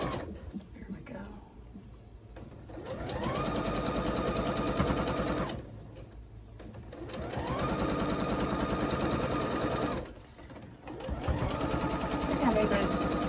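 A sewing machine stitches a floral quilt block in three long bursts of rapid, even needle chatter separated by short pauses, close and loud, with a brief soft voice near the start.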